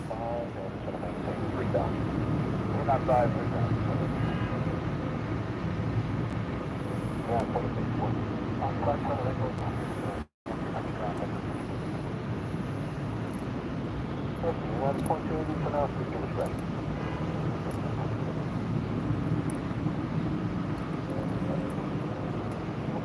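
A JetBlue jet airliner heading for takeoff at Orlando Airport gives a steady, broad roar mixed with wind noise, constant throughout apart from a brief dropout midway.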